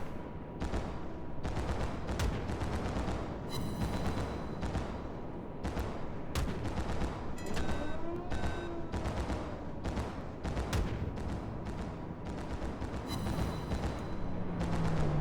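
Ship guns firing in the naval combat video game World of Warships, dense rapid booming salvos over a constant loud rumble, with repeated volleys throughout.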